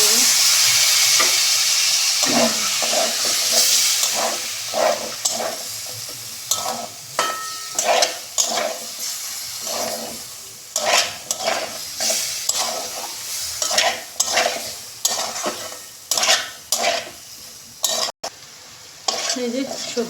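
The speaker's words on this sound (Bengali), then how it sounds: "কড়াইশুঁটি দিয়ে মশলা কষানো হয়ে গেছে" Spices and peas are stir-fried in a pan for a dried fish curry, with loud sizzling and a steady rhythm of repeated spatula scrapes and clanks against the metal throughout.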